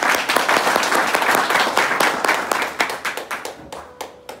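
Loud applause from a crowd at a Finolex Pipes plumber meeting, dense hand clapping that thins out toward the end into separate, slower claps.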